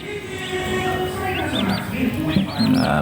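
Newly hatched turkey chicks, six white and two colored, peep in high, repeated rising chirps close by alongside their mother turkey, over a steady low rumble of background noise.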